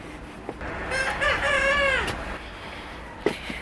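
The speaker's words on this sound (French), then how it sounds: "Ça c'est les coqs, c'est les poulets de chair qui commencent à chanter" Young broiler roosters crow in a farmyard orchard, with one clear rising-and-falling crow in the middle and a few short clucks and knocks around it, moderately close.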